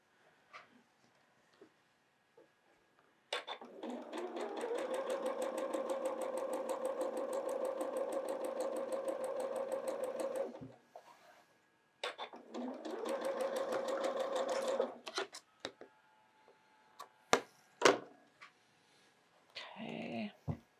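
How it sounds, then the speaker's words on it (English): A sewing machine stitches quilt block units together in two steady runs, a fast, even whirring rattle, close and moderately loud, separated by quiet handling clicks and fabric rustle. "We're going to sew those together."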